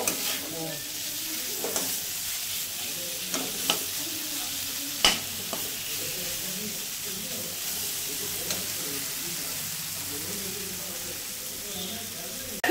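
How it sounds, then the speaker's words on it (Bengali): Spice paste frying with potatoes in a pan sizzles steadily and softly, broken by occasional scraping stirs of a spoon against the pan; a voice talks quietly in the background. "এখানে দেখো মশলাটা একদম ভালো করে কষাচ্ছে"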